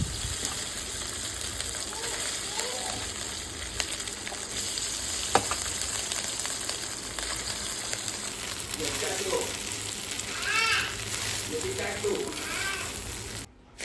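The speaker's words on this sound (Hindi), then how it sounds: "इसमें तेल डाला है, मस्टर्ड सीड्स डाले हैं और फिर सिर्फ उसको फ्राई कर दिया है।" A steamed dish fries in oil with mustard seeds, giving a steady crackling sizzle throughout, while voices and a child's sounds come in faintly over it toward the end.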